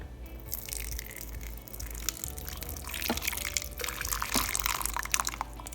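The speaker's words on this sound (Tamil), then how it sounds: "let's pour some hot water" Hot water pours from a kettle into a bowl while soaking ingredients for a besan sev (omapodi) snack, a steady close-up splashing stream with a few drips.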